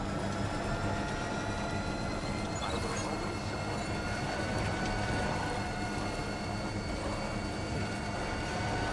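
Monorail in the video game Death Stranding 2 running with a steady mechanical rumble and faint wheel squeal, a continuous drone that holds at an even level throughout.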